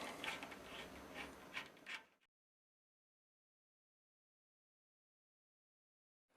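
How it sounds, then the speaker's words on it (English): M6 rubber feet being bolted onto a sim rig: about two seconds of close, rapid ratcheting and mechanical clicking, followed by sudden silence. "just bolting it straight up"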